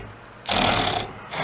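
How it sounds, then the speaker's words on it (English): Folding back saw cutting a piece of mulberry wood, a steady rasping stroke rising loud and close for about half a second, then a pause before the next stroke begins. "let's saw a piece of wood. This is mulberry."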